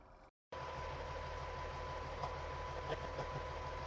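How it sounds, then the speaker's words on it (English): A dump truck's engine idles at close range in a steady, low rumble after a brief moment of silence, with no talking over it. "I don't know if you'll be able to hear me because the truck will be running"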